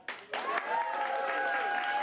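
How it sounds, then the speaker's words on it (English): Audience applause at an improv comedy show, with a brief burst that quickly swells into steady, close clapping mixed with whoops and voiced cheers, held at an even level for about two seconds. "applaud now"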